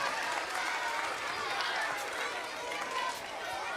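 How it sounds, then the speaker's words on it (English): Children and parents at a school talent show applaud the performers, a loud, continuous wash of clapping with crowd chatter and cheering throughout. "let's give one more round of applause for all the performers today"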